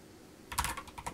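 Typing on an Amstrad CPC computer keyboard, a quick burst of close, clicky keystrokes after a short quiet lead-in, with several irregular taps in a row and no talk.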